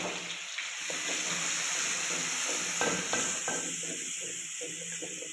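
Garlic frying in oil in a home kitchen, stirred steadily, with a continuous close sizzle and scattered scraping clicks of the spoon throughout.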